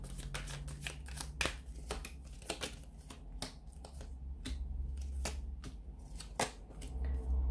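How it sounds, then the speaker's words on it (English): Tarot cards being shuffled by hand in quick riffling bursts, crisp papery slaps and flutters repeating irregularly over a low steady background hum, close and fairly quiet. "So we'll give the cards a shuffle."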